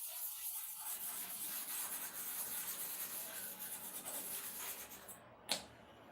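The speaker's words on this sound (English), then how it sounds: "You can use your stone like a sharper, like electric clipper blade sharpening machine" A clipper blade rubs on a sharpening stone, a faint, even scraping that runs continuously and ends with a single sharp click near the end. No voices.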